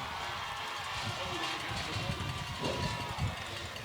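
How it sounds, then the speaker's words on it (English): Crowd cheering in the stands at a high school football game, a broad steady roar with scattered shouts and footfalls, moderately distant and continuous throughout. "Everyone's cheering."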